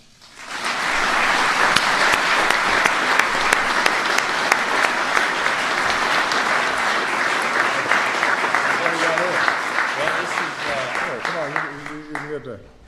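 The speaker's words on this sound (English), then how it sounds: "let's give a big round of applause for Kyle, his family, Joe Gibbs Racing, and the entire number 18 team" An audience applauds NASCAR champion Kyle Busch, his family, Joe Gibbs Racing and the number 18 team at a White House ceremony with the President, sustained dense clapping that fades as a voice begins speaking near the end.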